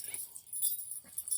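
A dog whimpers indoors in a couple of short, thin, high-pitched whines, faint and close, with no talking.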